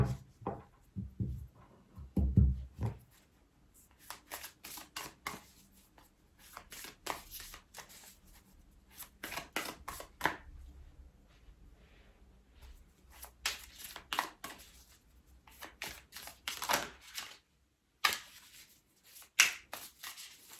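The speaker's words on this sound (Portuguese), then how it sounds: "vocês veem-me a baralhar as cartas" Tarot cards being shuffled by hand, quiet papery riffles and soft slaps coming in irregular bursts over about twenty seconds.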